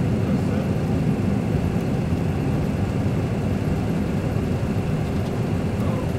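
Boeing 737 jet engines roar at takeoff thrust as heard from inside the aircraft, a loud, steady, broadband rumble that fills the whole clip without pause.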